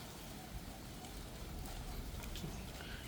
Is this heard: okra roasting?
no